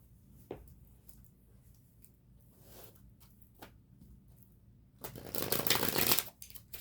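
Osho Zen and tarot cards being shuffled by hand: a few soft isolated card flicks and taps, then a dense burst of riffling near the end, close and quiet with no talking.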